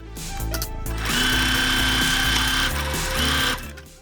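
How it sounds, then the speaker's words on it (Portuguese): A sewing machine stitches fabric for a cloth bag holder, running in a fast, rhythmic mechanical chatter close by, with short starts and stops around a steady run and no talk. "vamos terminar a costura do outro lado"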